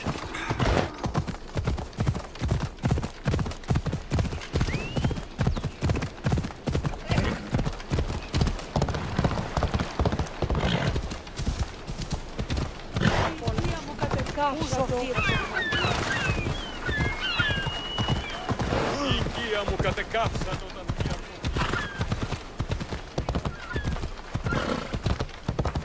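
Horse hooves in Assassin's Creed Odyssey: a steady, brisk clip-clop of a ridden horse carries through the whole stretch, with an occasional neigh and faint bird calls in the background.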